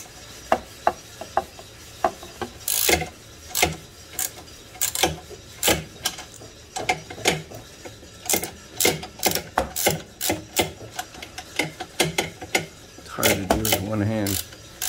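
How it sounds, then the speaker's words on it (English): Ratchet wrench undoing the motor bolt on an electric moped, a run of sharp, close clicking strokes in uneven bursts with a short rattling spin near the end. "All right, so I'm gonna undo this bolt right here"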